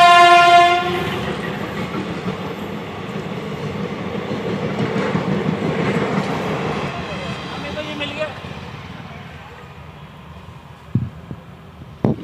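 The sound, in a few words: train passing at a railway crossing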